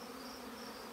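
Honey bees hum around a hive in a steady, close, continuous buzz that holds evenly for a moment.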